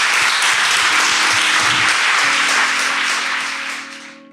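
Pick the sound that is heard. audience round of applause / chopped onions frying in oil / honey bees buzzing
audience round of applause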